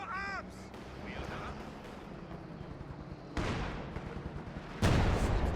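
An artillery barrage in Company of Heroes 2 lands as a few heavy, rumbling impacts that grow louder toward the end, over a low battlefield din and faint talk.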